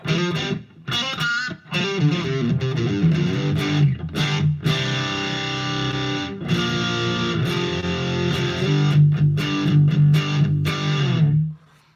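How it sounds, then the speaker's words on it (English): A distorted electric guitar through a Headrush effects rig plays chords and sustained notes with a tight, fast short-decay reverb tail, loud and up front, stopping abruptly near the end. "it's like a very fast, short decay kind of reverb"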